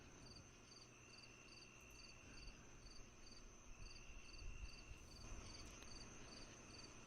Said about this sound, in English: The crickets chirp.